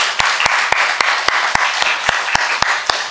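Applause at a church dawn prayer service: a congregation's steady clapping fills the room as a continuous wash, with about ten sharp, evenly spaced louder claps standing out in a regular rhythm.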